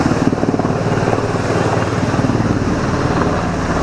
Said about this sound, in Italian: un elicottero dell'esercito giapponese ci passa sopra